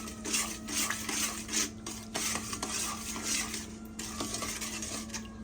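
A spoon works through wild sour cherry pie filling in a pot, giving repeated wet scraping and clinking strokes against the pot at an uneven rhythm, close up with a faint background hum and no voices.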